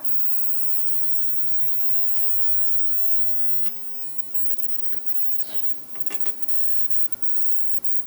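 Chopped garlic sizzles in oil as it is stirred before pork goes in, a faint, steady hiss with occasional light scrapes and clicks.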